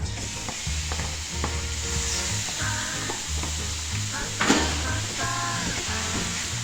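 Beef stir-fries in a pan for teriyaki with a steady sizzle, broken by clanking, scraping spatula strokes and scattered knocks, with a sharp clatter midway.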